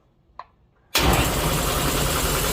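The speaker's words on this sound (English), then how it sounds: "That is a pretty daggone quiet air compressor." After a small click, an air compressor in a garage kicks on abruptly and keeps running at a steady, loud, close mechanical drone, fairly quiet for its type.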